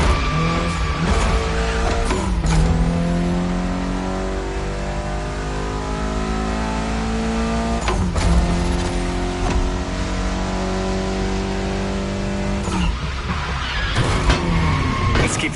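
Mitsubishi Lancer Evolution X in The Crew Motorfest, its engine loud and close, revving up through rising gear pulls with sharp drops at each of several shifts.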